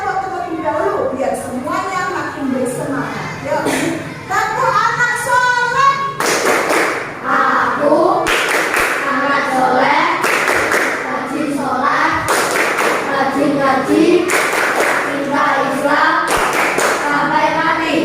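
In a school lesson, a class performs the "tepuk anak soleh" clap chant, with patterned rhythmic hand clapping and slaps mixed with children's chanting voices in a lively, close room that goes on throughout.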